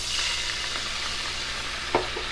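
A mixture of orange juice, melted butter, sugar and cardamom pods sizzles softly in a pan while being stirred, a steady close hiss with one brief scrape near the end.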